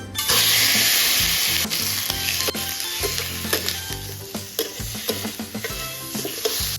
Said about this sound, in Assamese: অলপ এনেকৈয়ে ভাজি ল'ম, তেলখিনি ওলাব ইয়াত।